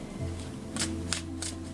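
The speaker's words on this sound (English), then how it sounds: "Give it another good shuffle." Tarot cards riffled during a shuffle for an angel reading, three or four quick crisp bursts of card flutter, close and fairly quiet over a low steady hum.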